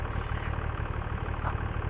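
A vehicle engine runs steadily while towing a trailer, a continuous close idling rumble with a steady low throb and no pauses.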